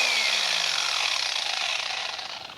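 A YATTICH electric drywall sander runs at maximum speed with a loud, high whine and rough abrasive hiss, its motor pitch sliding down as it slows and the noise gradually fading toward the end.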